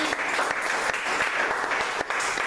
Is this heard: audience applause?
yes